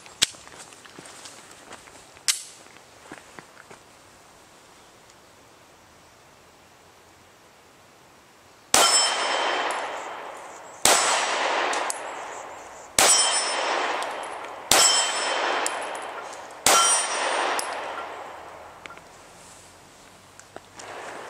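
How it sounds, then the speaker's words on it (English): Five 9mm shots from a Smith & Wesson M&P Shield ring a 14-inch steel gong at about 15 yards, each a sharp loud clang with a fading metallic ring, spaced roughly two seconds apart after quiet shuffling. "Just going to be shooting the 14-inch gong."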